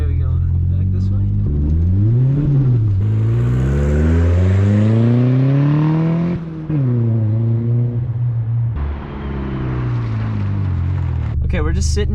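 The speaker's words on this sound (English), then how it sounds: "Okay, we're just sitting here idling." Turbocharged Honda Civic with a D16Y7 engine, heard idling and revving in repeated rising and falling sweeps, loud and close, with a person talking over parts of it.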